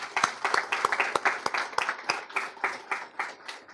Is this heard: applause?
yes